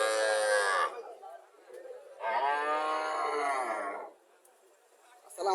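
Friesian calves on a farm moo in two long, loud, drawn-out calls, the first ending near one second and the second stretching about two seconds, separated by quiet farmyard background.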